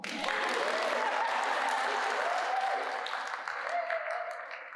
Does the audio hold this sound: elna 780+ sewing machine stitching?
no